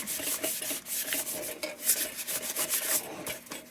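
A brass Dietz Monarch lantern is rubbed with 2000 grit sandpaper, a soft, close, rhythmic rasping of repeated back-and-forth strokes.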